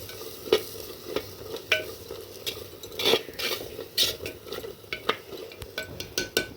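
Frying and stirring in ghee with no oil, a soft continuous sizzle broken by frequent clinks and scrapes of a metal spoon against the pan.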